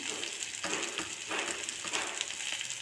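Something fries in a pan with a steady, soft sizzle while turmeric powder is added, broken by a few scraping stirs, fairly quiet and with no one talking.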